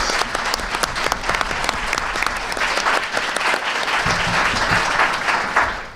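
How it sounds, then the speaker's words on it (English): An audience at a school board of education meeting applauds its teachers in a loud, dense, sustained ovation of many hands clapping that keeps going without a break. "We gotta have another round of applause for our great teachers."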